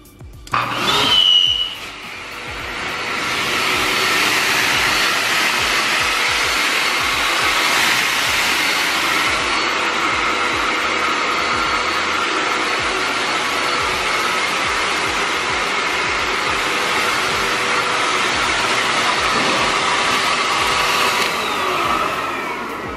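A compact vehicle blow dryer with an expanding hose switches on and runs as a steady, loud whooshing roar of blowing air and motor whine, holding constant until it shuts off near the end.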